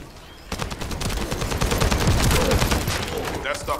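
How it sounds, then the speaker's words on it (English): Gunfire in the video game The First Descendant: a sustained fusillade of rapid automatic shots with heavy low booms, starting abruptly and rolling on continuously, loud and close. "That stopped the gunfire."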